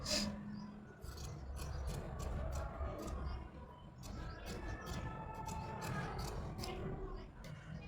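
Scissors snip through paper while cutting a blouse pattern, a series of quick, close rasping cuts in uneven bursts along with rustling paper. Someone talks softly throughout.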